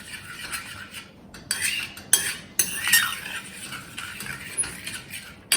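A utensil clinks and scrapes against a bowl in irregular bursts, mixing gram flour batter for pakoda kadhi by hand, close by with no talking.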